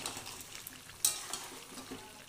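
Spinach and chicken fry with ground masala in a pan, with a soft steady sizzle and quiet scraping stirs plus one sharper knock, all faint and close.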